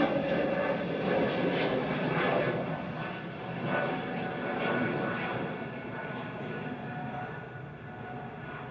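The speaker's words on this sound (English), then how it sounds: "Departing now is Air France, back to Paris Charles de Gaulle." An Air France jet airliner departing Manchester Airport for Paris Charles de Gaulle roars steadily at moderate distance, its engine rumble pulsing gently in level with no talk on top.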